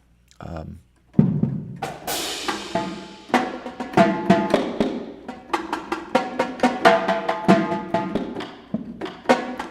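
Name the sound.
tenor drums being played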